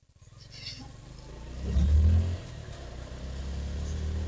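A Suzuki Gixxer motorcycle engine idles then revs briefly in a short swell before settling back to a low, steady running rumble, close by with no talk.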